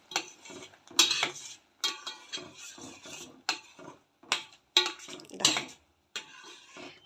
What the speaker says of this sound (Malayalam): 3 കൂടി നെയ്യിൽ വതക്കിയിട്ട് ആ നെയ്യോടുകൂടി നമുക്ക് ഇതിലോട്ട് ഒഴിച്ച് കൊടുക്കാം.